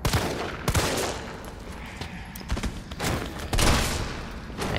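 Bursts of gunfire in Resident Evil 3 Remake crack repeatedly, some rapid volleys and single heavy shots, punchy and loud, with no voices.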